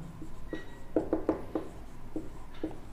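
Chalk or marker strokes on a board during a class 10 trigonometry lesson: a quick series of short, close taps and scrapes in an uneven rhythm with no talking.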